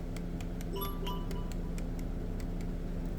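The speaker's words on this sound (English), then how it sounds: "I'm tapping it just so I can push the clamps all the way down." Light metallic taps at a steady rhythm as battery hold-down clamps are knocked into place on a 2022 Kia Telluride, close by over a constant background hum.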